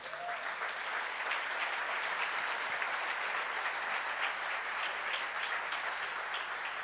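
A church congregation applauds for the Lord, a full, even wash of clapping that holds at a steady level from start to finish.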